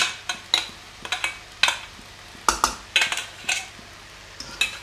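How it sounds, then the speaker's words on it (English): Chicken noodles being tossed in sauce in a pan, giving a run of sharp, irregular utensil clinks and scrapes with a faint sizzle underneath, close and fairly loud, with no talking. "And just keep tossing it all in so it covers it all."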